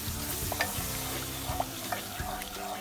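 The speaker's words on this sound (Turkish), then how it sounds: "Şimdi şöyle karıştırayım." Pumpkin soup gets stirred in a pot, a close, continuous bubbling simmer with soft spoon scrapes and a few light taps against the side, steady and without voices.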